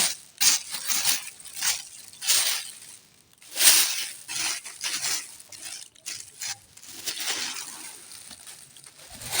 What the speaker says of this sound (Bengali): আমাদের মাখা শেষ হলো এখন আমি এর ভিতর দিয়ে দেবো মুড়ি